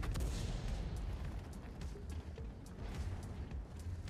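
In a tank video game a heavy Maus tank takes shell hits, heard as dense, rumbling booms and gunfire bursts repeating under a constant loud roar of battle noise, with no talk.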